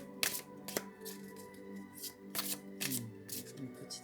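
Oracle cards are handled and shuffled close up, with several sharp riffling bursts and soft sliding between them while someone talks.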